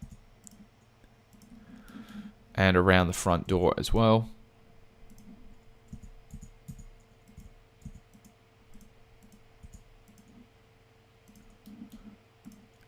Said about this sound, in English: I'm going to hit tab on the keyboard.